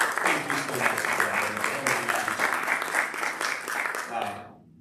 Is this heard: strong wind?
no